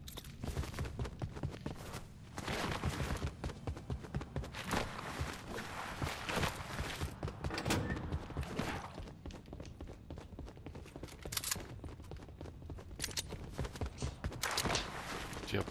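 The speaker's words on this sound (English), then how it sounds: "Footsteps or something." Rapid, steady footsteps in a video game, close and continuous throughout with occasional heavier thumps.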